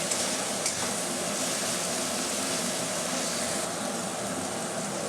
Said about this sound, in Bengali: টমেটো দিয়ে নাড়াচাড়া যতক্ষণ পর্যন্ত না টমেটোটা গন্ধ হচ্ছে ততক্ষণ পর্যন্ত নাড়াচাড়া করবো